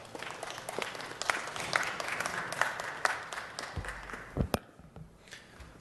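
Applause from the audience at a city council meeting, a steady patter of many hands clapping that tapers off toward the end with a few final louder claps.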